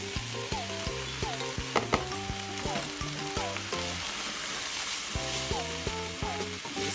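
Vegetables frying with mince meat for pilau rice, a steady close sizzle with occasional stirring scrapes and clinks, under continuous background music.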